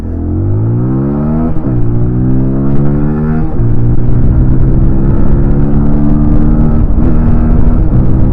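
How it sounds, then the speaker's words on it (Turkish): A TVS Apache RTR 200 motorcycle accelerating at full throttle, its engine note climbing loud and close through several gears, with short dips at each shift before the pitch rises again, no voices. "Şimdi yine hard diye gaz açacağım arkadaşlar. Biraz yine görün hızlanmayı."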